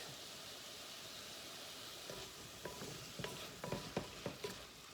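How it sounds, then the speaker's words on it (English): Swiss chard sautéing in a pan gives a steady bed of frying sizzle, with a few louder crackles and stirring clatters building toward the end, close and fairly loud. "they're frying up real nice"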